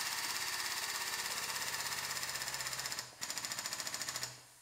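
A frame machine pulls on the body of a totaled 2013 Buick Enclave with a rapid, rhythmic pulsing mechanical chatter. It cuts out briefly near the end, then resumes.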